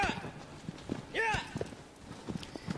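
Rhythmic hoofbeats of a galloping horse in Shadow of the Colossus, close and fairly loud, with a brief whinny-like cry partway through and a voice talking over it.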